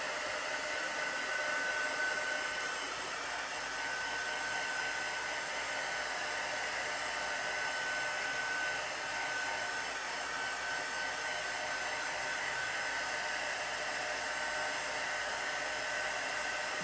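A hair dryer blows steadily on chalk paste over a fabric flag, a constant, even whoosh close up with no pauses.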